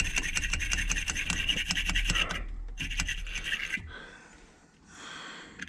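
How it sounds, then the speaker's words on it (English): Stiff brush scrubbing up and down on corroded car battery terminal, a steady rasping scrape in fast repeated strokes, close and fairly loud, easing off and pausing near the end. "you just got to go up and down and keep brushing. Get all that corrosion off of there."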